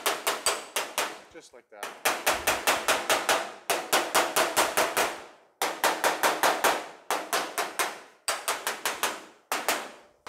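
A hammer strikes sheet metal backed by a dolly on a 1940 Ford coupe quarter panel, sounding as rapid bursts of sharp ringing taps separated by short pauses, close and loud, with a brief spoken comment.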